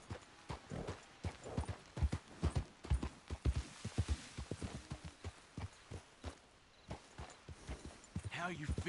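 Horse hooves clip-clop at a walking pace on the ground in Red Dead Redemption 2, a close, steady rhythm of uneven strikes with a brief whinny near the end.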